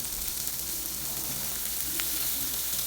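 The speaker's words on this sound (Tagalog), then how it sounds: "iprito muna natin yung mga sahog. Yung hipon. Madali ang prito lang din." Steady, close sizzling of shrimp frying in hot oil in a pan, a constant crackling hiss with no talking.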